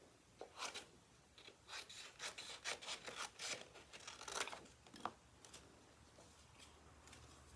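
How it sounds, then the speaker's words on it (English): A small paper trimmer slices through card in a series of faint, quick rasping strokes, close by and with no talking. "I'm going to use my little trimmer here"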